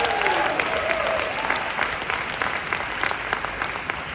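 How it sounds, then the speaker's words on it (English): A room full of training-session attendees breaks into loud, sustained applause, a dense wash of clapping that slowly eases toward the end. "Give yourself another big round of applause."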